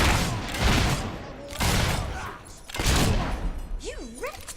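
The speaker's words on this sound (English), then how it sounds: "Strongback shooting at us." Gunfire from Strongback in the video game Fable III: three heavy booming volleys spaced about a second apart, each a thick burst of blasts, with a voice calling out near the end.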